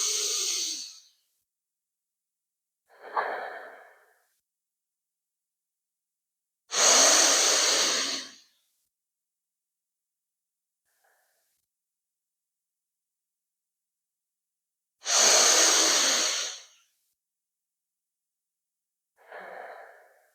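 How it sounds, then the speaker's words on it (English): Deep rhythmic yoga breathwork, long forceful breaths in and out, each drawn over a four-count, close and loud, with quieter breaths between and silent pauses; no talking. "you're trying to bring as much air into your lungs as in 4 counts and squeeze all the air out in 4 counts"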